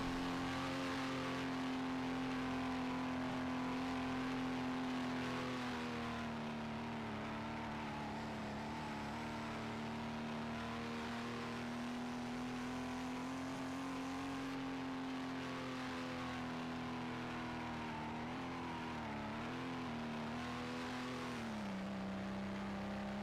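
Onboard engine of a Mercedes GT3 race car in a racing game, a steady loud drone holding its pitch through the lap's closing section, with slight rises and dips as it eases through corners.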